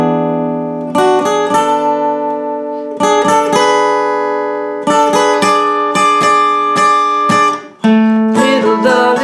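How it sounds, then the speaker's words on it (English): Acoustic guitar plays the short riff that leads from the bridge into the third verse of a song: bright, ringing picked notes in quick bursts with brief pauses between, close and clear with no voice. "There's a little riff that's used to transition from the bridge to the third verse."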